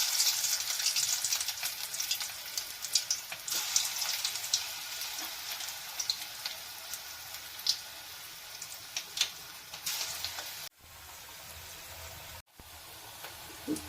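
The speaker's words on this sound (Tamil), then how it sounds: "எண்ணெய் சூடாயிடுச்சு. இப்போ நம்ம போண்டா போட ஆரம்பிச்சிடலாம்." Sooji bondas fry in hot oil with a steady, busy sizzle and crackle, close and continuous, briefly cutting out twice near the end.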